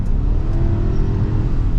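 A 2024 Subaru Ascent Touring's boxer engine revs under hard throttle from inside the cabin, a steady low rumbling drone that holds loud and even through a short stretch without talk.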